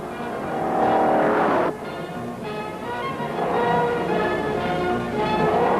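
A 1968 Oldsmobile Hurst Olds engine winds up hard under acceleration during a road test, roaring steadily with a gear change break partway through, then climbing again.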